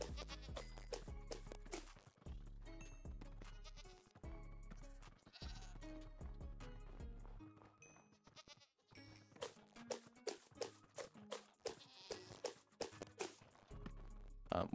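Goats bleating in the video game Minecraft, with repeated loud bleats over a steady low droning game track, the calls coming in quick bursts and overlapping one another.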